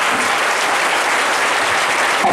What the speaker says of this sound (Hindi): जोरदार ताली बजाकर परमेश्वर जी